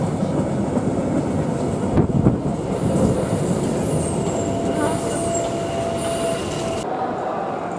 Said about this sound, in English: here we are on the central station at Newcastle. Just waiting for the train to arrive